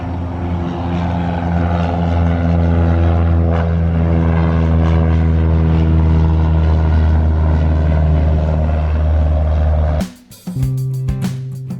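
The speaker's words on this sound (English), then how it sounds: "There's another plane taking off." A propeller plane taking off at Bedford Airport, its engine droning loud and steady with strong harmonic hum for about ten seconds before the sound cuts off abruptly near the end.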